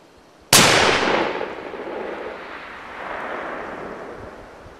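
A single sharp, loud rifle report from a .338 Terminator fired at long range cracks suddenly and then rolls away in a long, fading outdoor echo over several seconds.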